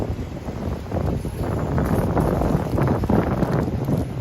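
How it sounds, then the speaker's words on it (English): Strong wind gusting along a Harlem street at rush hour, roaring and buffeting against the microphone in a steady, loud rumble that swells slightly after the first second. "As you can see, it's super windy."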